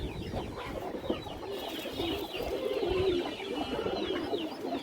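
Road master pigeons coo in a loft, soft repeated throaty calls layered over one another, with scattered wingbeats and shuffling close by and no talk.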